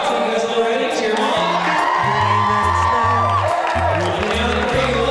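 An audience cheers and whoops for contestants at a TV show game, with shouts and scattered applause layered over loud, steady background music.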